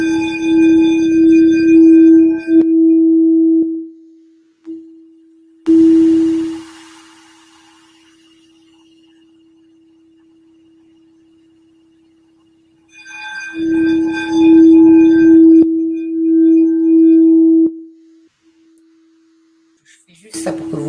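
Sustained musical tones are played live in a chakra sound session, ringing in several long stretches at a steady pitch, with a voice speaking over parts of them and quiet gaps in between.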